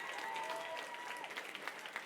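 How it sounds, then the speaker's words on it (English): Audience clapping at a charity gala wine auction, a steady dense patter of many hands filling the room, with a faint voice and tonal ring underneath. "Ladies and gentlemen, I need you to clap your hands if you're having a good time."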